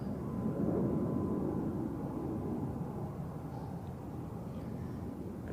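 An Airbus A340 heavy four-engine jet on approach to Zurich Airport produces a steady, broad distant roar that holds level throughout, with no voices.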